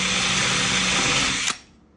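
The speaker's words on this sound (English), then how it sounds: "I'm just gonna use the drill bit in the center of the hole there and pilot that." A power drill whines at a steady high pitch while piloting a screw hole in a standing desk, loud and close, then cuts off sharply and spins down after about a second and a half.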